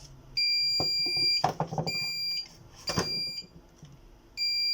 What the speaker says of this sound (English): As you can see, it's still beeping.